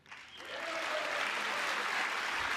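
Applause and cheering from an audience at a Trump address swell up within half a second into a dense, sustained roar of clapping that holds steady and loud to the end.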